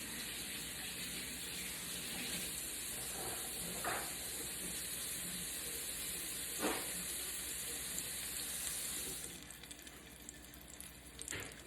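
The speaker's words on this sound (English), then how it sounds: "Y'all hear that sizzle?" Portobello mushroom wrap sizzling in a hot pan, a steady close hiss of frying that runs throughout with a few brief clatters, then eases slightly near the end.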